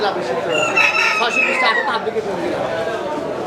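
A native rooster crows loudly and close at a busy market, with clucking fowl and a crowd chattering underneath.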